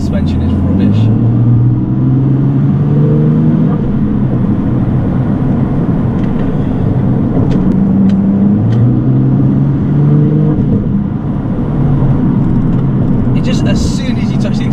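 Nissan GT-R tuned by Litchfield to 620 bhp accelerating, a steady loud engine drone with rising and falling tones heard from inside the car, while a person talks over it throughout.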